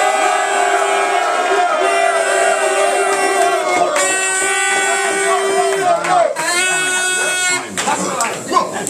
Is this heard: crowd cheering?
yes